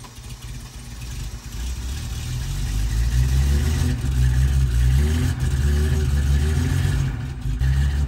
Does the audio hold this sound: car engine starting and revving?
yes